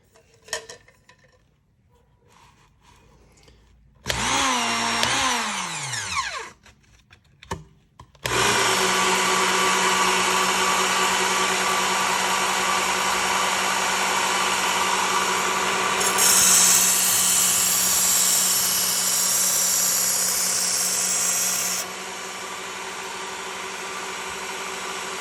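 A Work Sharp sharpener grinds a Shun chef knife freehand, a loud continuous abrasive whir with brief start-up bursts, then a long steady grind whose pitch shifts slightly as the blade moves.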